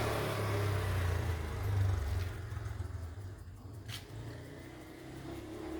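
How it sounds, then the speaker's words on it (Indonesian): A motorcycle engine passing on a village road in Indonesia, a mid-pitched hum that swells and then fades as it goes by, heard alone without talk. "Motor jalan."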